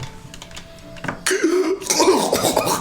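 A creature coughs up green stuff: a few sharp, wet coughs and throaty rasps, close and fairly loud, growing into a rougher gurgling hack toward the end.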